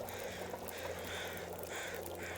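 Crows cawing in the survival game The Long Dark, a few hoarse calls carrying from across an open space over a constant wind-like background.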